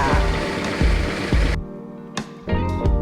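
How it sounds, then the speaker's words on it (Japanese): Starter motor of a Yamaha Vmax V4 motorcycle cranking with the clutch lever pulled in, a close mechanical whirring that stops abruptly, followed by two short further bursts of cranking. "クラッチを握り、ミッションを切り離してからセルを回しましょう"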